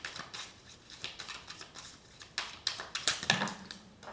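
Tarot cards are shuffled and some drop onto a surface. Light papery snaps and flicks come in uneven bursts, close to the mic, with a quick patter as cards land near the end and no speech.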